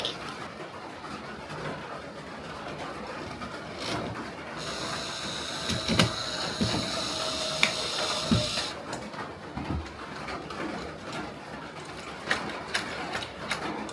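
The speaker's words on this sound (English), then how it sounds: "we can take these longer screws and drive them in" Longer screws are driven into a new door handle at an off-grid cabin, a close mechanical ratcheting whir for a few seconds amid scattered clicks and handling taps.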